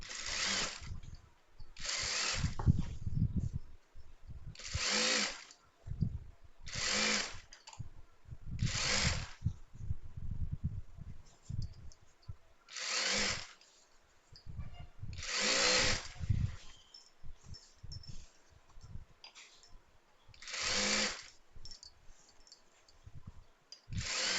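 A sewing machine stitching a half-inch hem on an inskirt during an alteration, running in short repeated bursts of rapid whirring with quiet pauses between them, close and fairly soft.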